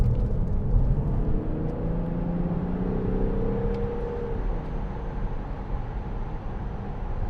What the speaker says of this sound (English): I'll show you what hyperthrust is like in a 6-litre V12